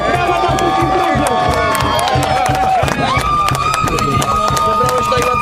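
An outdoor crowd at a Kashubian triathlon competition cheers and claps for all the teams, a busy mix of shouting, clapping and lively voices over a music-like drone, loud and continuous.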